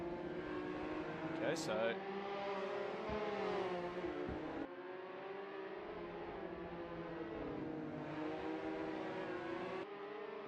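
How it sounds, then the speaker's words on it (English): Can-Am Mini Street Fighter race cars run loud on a track in Adelaide, their engines droning and revving continuously under steady commentary voices throughout. "God, these cars are loud."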